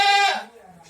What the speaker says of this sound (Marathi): इथं त्यांच्या शेळ्या पण आहेत आणि लहान लहान पिल्लं आपण इथं पाहू